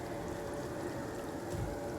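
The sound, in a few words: rain in the video game Divinity: Original Sin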